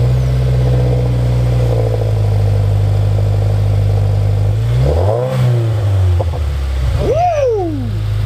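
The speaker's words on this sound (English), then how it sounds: "Got some backfire going, man." A Subaru WRX/STi with an Invidia Gemini R400 exhaust idles with a deep rumble, then revs up twice in sharp rising sweeps, with crackling backfire pops around the revs, close and loud.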